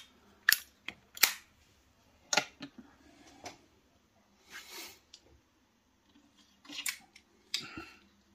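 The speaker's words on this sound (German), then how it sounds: "das ist der Klang vom Zippo" A Zippo petrol lighter lid snaps open and shut in a series of sharp metallic clicks, some paired in quick succession, with short pauses between them, close and alone.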